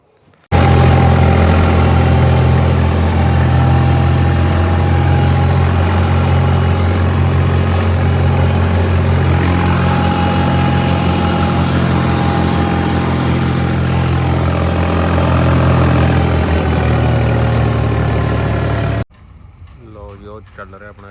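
A thresher engine runs steadily and loudly on a farm at harvest, a constant mechanical drone with a low rhythmic throb, before cutting off abruptly near the end.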